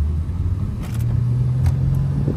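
A Ford Mustang engine idling with a low, steady rumble that rises slightly as it revs, close and alone without talk.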